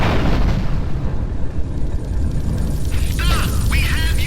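A plane blows up in GTA 3. A loud, sustained rumbling blast fills the whole clip, and a few warbling tonal effects come in near the end.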